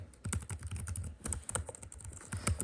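Typing on the keyboard of an ASUS Vivobook OLED laptop: rapid, close clicking keystrokes in an uneven steady stream, crisp and moderately loud, with no talk.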